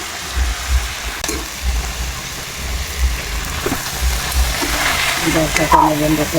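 Potatoes frying in oil with salt and turmeric in a home village kitchen, giving a steady crackling sizzle with low rumbling thumps underneath and a brief clink near the end.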